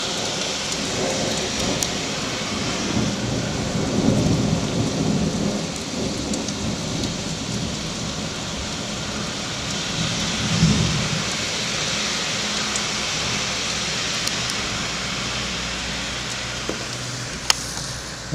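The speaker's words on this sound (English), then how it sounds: "That's incredible amount of rain." Heavy tropical rainstorm pouring down on a London street at night, a steady loud roar of rain hitting surfaces with low rumbles of thunder swelling twice, continuous throughout.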